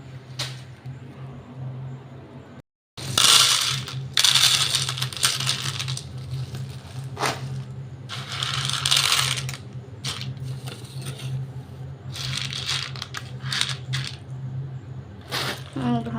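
Dry pasta rattles and clatters in bursts as it is scooped out by hand, with sharp hard clicks and scattering pieces, a short pause early on, and a low hum beneath.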